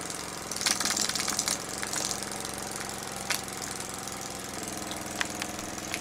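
An EP Hercules model steam engine runs steadily with a non-original burner, a fast mechanical chuff and rattle with sharp hissing ticks, priming slightly, close and continuous.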